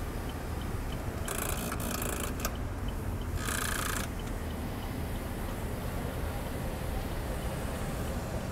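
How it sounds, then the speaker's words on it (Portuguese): Electric power seats adjusting inside a 2011 Chevrolet Camaro SS 6.2L V8: two short whirring motor bursts, the first about a second long and the second briefer, over a steady low cabin hum. "Bancos elétricos."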